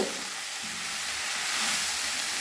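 Mixed vegetables for labra sauté in a pan over a medium gas flame, giving a steady, close, even sizzle that holds without a break.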